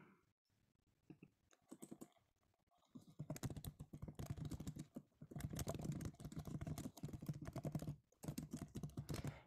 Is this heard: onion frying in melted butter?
no